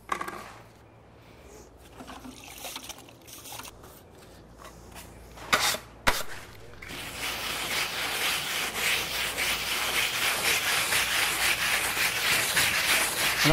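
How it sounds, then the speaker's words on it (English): A steel trowel rubs open a Dryvit Lymestone finish coating on a wall, a steady broadband scraping that starts faint and sparse, then becomes continuous and loud after a couple of sharper knocks. "all you're actually doing is just rubbing that surface open"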